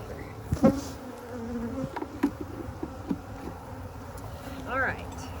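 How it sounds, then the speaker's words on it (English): Honey bees swarm around an open beehive during a hive inspection, a dense, continuous buzz with individual bees droning past close by, while a person talks quietly in the background. "a lot of people find it pretty intimidating the first time they get into a box of bees because bees are flying all over your head"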